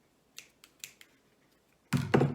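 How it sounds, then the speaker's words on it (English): Scissors snip through folded fabric while cutting out a hat shape for a craft gnome, a few sharp, close crisp cuts spaced apart, followed by a louder handling rustle at the end. "Then I just took my scissors and I just cut up"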